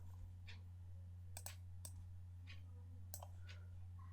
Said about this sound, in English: let me just type it again